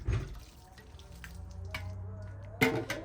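Water running and splashing as the outside of bottles is rinsed, a soft continuous trickle with a louder splash near the end.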